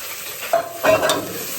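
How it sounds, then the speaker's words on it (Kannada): Mutton sizzles in a hot pan as it is stirred, with a steady frying hiss broken by a couple of brief scraping strokes close by and no talking. "ಮಟನ್ನ ಹಾಕಿರೋದೆಲ್ಲ ಕ್ಲೀನಾಗಿ ತಿರುಗಿಸ್ಕೊಂಡು"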